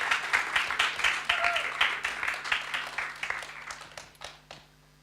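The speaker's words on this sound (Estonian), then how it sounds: "veel kord aplaus" An audience at a results and closing session applauds, with brisk, fairly dense clapping and a few sharper individual claps, fading out over the final second.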